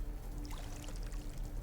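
Water in the video game No Man's Sky pours and splashes continuously in a steady, soft, relaxing stream with no breaks.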